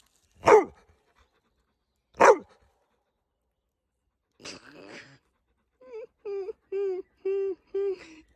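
A dog gives two sharp, separate barks, then a short rough vocal burst and a run of five short whining yelps, all close with quiet gaps between.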